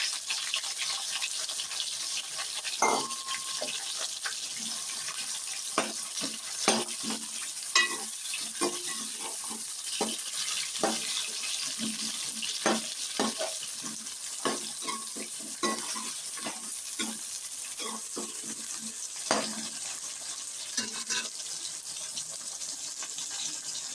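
Chopped onions fry in a pan under a constant sizzle, broken by repeated clattering scrapes and stirs of a spoon at an uneven rhythm, up close and without speech.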